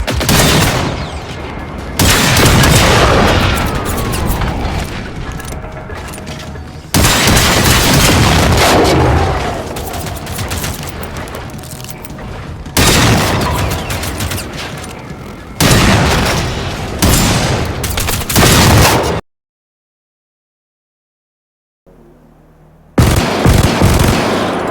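Shotgun fire in the Generation Zero game comes in loud, booming bursts of rapid blasts with layered explosive tails, separated by short breaks, with one silent gap before firing resumes.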